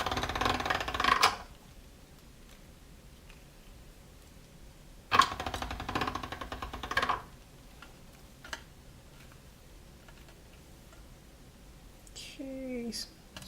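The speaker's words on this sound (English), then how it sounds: "I'm gonna condition it on my third thickest setting, which is a number 2 in my pasta machine." A pasta machine rolls and conditions polymer clay on a thick setting, giving two bursts of gritty, clicking mechanical rattle, each lasting a second or two, with quiet pauses and faint handling noises between them.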